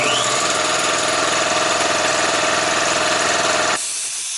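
An 8000 W 60 V inverter under a massive load gives a loud, steady, harsh electrical hum and buzz that holds for several seconds and then abruptly cuts to a quieter drone.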